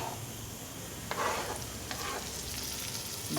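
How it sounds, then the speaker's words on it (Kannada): Egg fried rice masala frying over medium flame in a pan with chopped coriander leaves just added, a soft steady sizzle with a few stirring scrapes, close and without talk. "ಮೀಡಿಯಮ್ ಫ್ಲೇಮ್ ಇಟ್ಟೆ ಫ್ರೈ ಮಾಡ್ಕೊಳ್ಳಿ ಸ್ನೇಹಿತರೆ"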